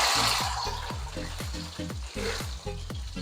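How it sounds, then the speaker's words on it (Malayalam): Dried chillies, ginger and garlic fry in oil for an ambazhanga pickle, with a loud, close sizzle and a regular run of clacking stirring strokes about every third of a second. "ഇനി നമുക്ക് വറ്റൽമുളക് അതിലേക്ക് ഇട്ട് കൊടുക്കുക അതിനുശേഷം നമ്മൾ അരിഞ്ഞു വെച്ചിരിക്കുന്ന ഇഞ്ചി ഇതിലേക്ക് ഇട്ട് കൊടുക്കുന്നു"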